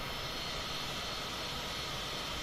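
The airplane engine in Microsoft Flight Simulator 2020 gives a steady, loud broadband roar with no change in pitch or level, heard alone without talk on a night flight from Dallas Fort Worth to Little Rock.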